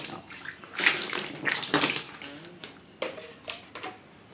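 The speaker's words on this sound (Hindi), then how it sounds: "फिर हाथ धो के कुल्ला कर देता हूं" Tap water runs and splashes in irregular bursts as someone washes their hands and rinses their mouth, close up and moderately loud, with brief pauses between gushes.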